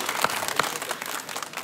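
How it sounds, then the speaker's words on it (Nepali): Audience applause on a televised dance competition stage, a dense, steady patter of many hands clapping across the whole stretch, with a couple of sharper individual claps standing out early on. "उहाँको लागि पनि एकचोटि ताली बजाइदिउँ"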